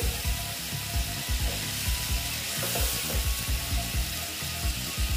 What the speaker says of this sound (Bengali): লঙ্কা দিয়ে নেড়ে চেড়ে নিচ্ছি।